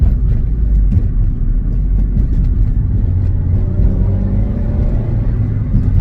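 A car just brought out of storage runs its engine at varied RPMs, giving a steady low rumble heard up close, with slight rises and falls in pitch and no talk.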